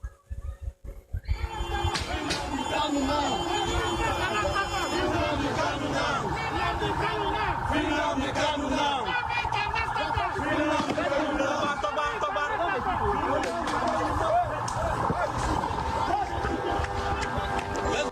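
A crowd breaks into pandemonium, a dense roar of many voices shouting and screaming as people run, loud and continuous after a brief faint start.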